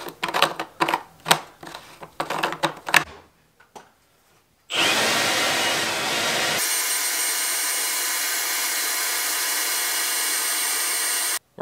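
Milwaukee M18 cordless leaf blower with an inflation nozzle runs alone as a loud, steady airy rush after some clattering handling noises, starting with a burst then settling into a constant, slightly thinner roar.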